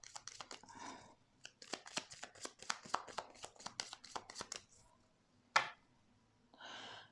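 A tarot deck is cut and shuffled by hand, with a quick flurry of crisp card snaps and slides, a sharp slap, then a soft riffling rustle, close and quiet.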